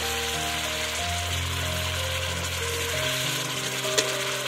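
A cabbage and egg omelette sizzles and fries in spiced masala in a pan, a dense continuous crackle with faint scraping of stirring and one sharp clink near the end.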